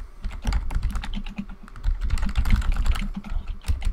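Rapid typing on a computer keyboard, a close, dense clatter of key presses in quick bursts with a short pause in the middle, then another fast run, no speech.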